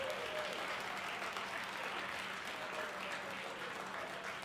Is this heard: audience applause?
yes